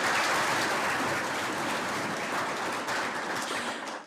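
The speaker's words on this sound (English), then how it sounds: "please give a round of applause to our top nominators" Audience applause at an award ceremony, a steady wash of clapping from a crowd that holds fairly even before tapering off near the end.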